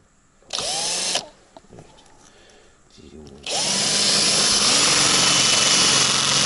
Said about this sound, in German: Aber der Bohrer bohrt auch sehr gut.